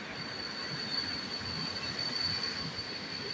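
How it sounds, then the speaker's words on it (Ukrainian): A train moving on rails gives a steady, even rumble with a thin, constant high-pitched whine running through it, at moderate level and with no voices. "потяг їде"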